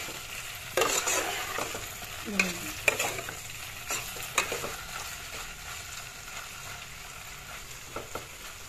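Small fish laid into a hot oiled pan, with a close, crackling sizzle and a series of sharp spatula knocks and scrapes, busier at first and then thinning out, without speech.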